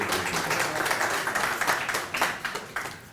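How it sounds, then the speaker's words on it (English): Conference audience applauding at a Blackmagic Design expo session in Kenya, a steady crowd clapping that carries on for a few seconds with scattered louder claps standing out. "Round of applause as we will leave us,"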